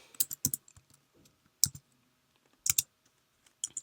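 Several bursts of quick key clicks on a computer keyboard while code is typed for a Vex IQ Python program, coming in short clusters separated by brief pauses, close and fairly quiet.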